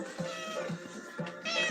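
A cat meows several times in quick succession, close and moderately loud, with short tonal cries and no talking.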